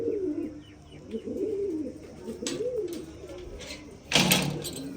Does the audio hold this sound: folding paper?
no